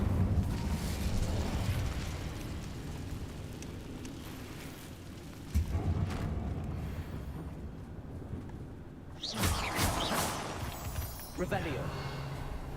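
An Incendio fire spell is cast in a video game, with bursts of magical fire whooshing and crackling under a person talking over the gameplay.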